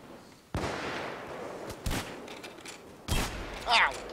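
Minigun fire in the video game Payday 2 comes in three loud, sustained bursts of rapid gunfire separated by short pauses, with a faint voice briefly audible near the end.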